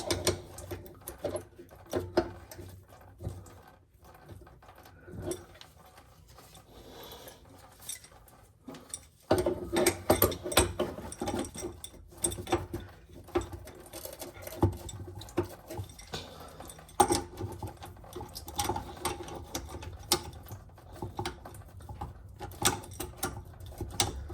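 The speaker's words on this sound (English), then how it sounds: "I want to hold the filter on this end while I twist the nut over here on the other end to completely remove the filter." Mechanical clicking, scraping and metallic fiddling from a wrench twisting a fitting nut loose to remove the fuel filter on a Camaro, close and fairly quiet, with small irregular ratchety taps and no talk.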